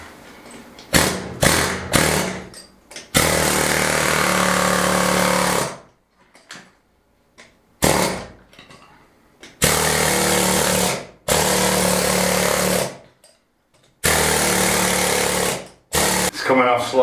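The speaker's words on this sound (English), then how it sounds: "We're all plugged in, compressors on. We've got the air hammer," Loud bursts of a pneumatic air hammer chattering as it chips render off stone walls of an 1870 farmhouse, several long runs separated by short pauses, with brief voices between bursts.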